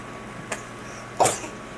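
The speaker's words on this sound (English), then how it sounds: "Oh, what a cough. What a cough." Two short coughs from a baby, a faint one followed by a stronger, raspy one, close by in a quiet room.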